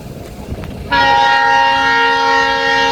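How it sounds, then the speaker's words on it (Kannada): A loud, steady train horn blares in from about one second, sustained and close, over rumbling ambient noise. "ಬಾಗಲಕೋಟ್ ಕಡೆಯಿಂದ ಒಂದು ಟ್ರೈನ್ ಬರಾಕತ್ತೈತಿ"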